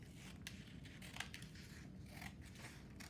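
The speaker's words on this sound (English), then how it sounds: "cut that very first piece of paper all the way from here down to this line" Scissors cutting a sheet of paper while making tabs for a nested comparison booklet: a run of close, crisp snips and paper rustles, quiet and steady with no talking.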